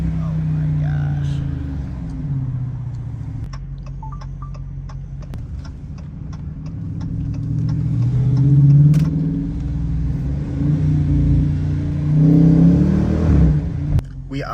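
A 2022 Dodge Challenger R/T Plus driven at night rumbles steadily from inside the cabin. Its engine swells twice into deep, throaty revs over a faint ticking.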